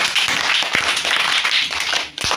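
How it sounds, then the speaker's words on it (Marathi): A group claps steadily and briskly for a couple of seconds at a school sports-day board game, the applause tapering off at the end. "एकदा टाळ्या वाजवा त्याच्यासाठी"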